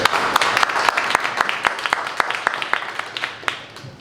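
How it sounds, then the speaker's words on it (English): A conference audience breaks into applause after a panel, dense clapping that starts strong and gradually thins out over a few seconds. "give them a round of applause."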